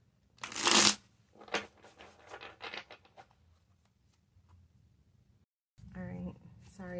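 Tarot cards riffled in a quick burst near the mic, followed by softer card flicks and handling taps, then a pause before the reader speaks briefly.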